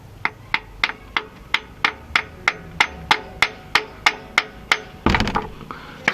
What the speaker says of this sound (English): you can always just tap the edge with a hammer.